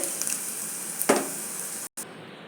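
Red chilli, onion, garlic, curry leaves and asafoetida fry in hot oil for pappucharu, giving a steady soft sizzle with a brief louder crackle partway through.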